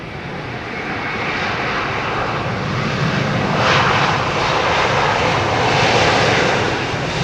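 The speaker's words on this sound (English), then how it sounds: "Korean 747 pushing back." Korean Air Boeing 747 jumbo jet pushing back at London Heathrow, its engines giving a steady, loud, broad roar that swells slightly and holds throughout, with no talk.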